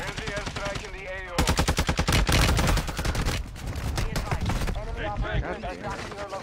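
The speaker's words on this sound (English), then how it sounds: "There's the airstrike in the AO." Video game airstrike erupts in a loud, sustained barrage of rapid explosive blasts and gunfire, dense and close for several seconds, with voices talking over the action before and after.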